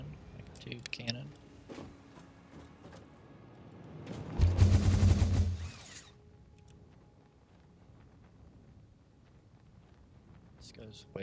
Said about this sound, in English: We're gonna use the old hyper tube cannon.